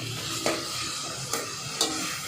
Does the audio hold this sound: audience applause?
no